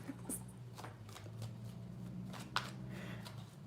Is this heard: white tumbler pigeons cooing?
no